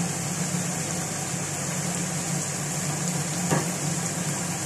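Onion and chili sizzle in hot oil for a Filipino chicken dish in tomato paste: a steady, fairly quiet hiss that holds without a break, with one faint tap partway through.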